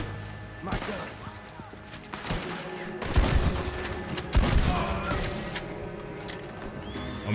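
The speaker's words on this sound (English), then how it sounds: "This shotgun is powerful." Shotgun blasts in Red Dead Redemption 2 boom out in a burst of several heavy shots over busy game noise, with horse hooves and voices mixed in.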